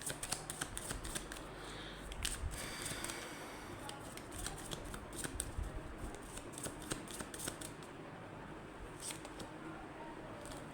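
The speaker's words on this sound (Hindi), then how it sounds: "एक यहाँ से भी हमें कुछ कार्ड लेने हैं" Tarot cards shuffled and drawn from a deck, giving steady papery riffling with sharp flicks and snaps throughout, close and fairly quiet, no voices.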